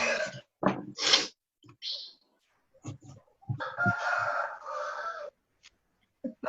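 A rooster crows loudly and repeatedly during an online video meeting, its long drawn-out calls standing out clearly between short stretches of background noise and brief sounds.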